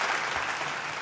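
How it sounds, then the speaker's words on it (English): A short, close burst of clapping from a group, like a round of applause, dense and even for about a second. "Round of applause for you guys."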